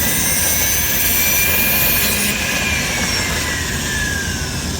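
A Foredom rotary tool spins a sanding disc at high RPM on a jewelry bench, a loud continuous whine and hiss with a faint grinding edge, steady throughout.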